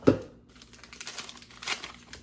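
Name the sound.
family-sized tea bag being handled and put in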